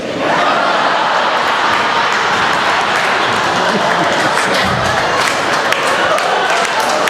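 Comedy club audience bursts into sustained applause and cheering, a dense continuous roar of clapping at close range, with a few voices rising through it.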